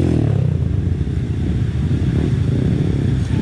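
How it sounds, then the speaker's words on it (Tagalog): A motorcycle rides through deep, rough terrain, its engine droning loud and steady close by, with clattering and scraping mixed into the continuous rumble. "Kayang-kaya ni Marvin yung motor niya."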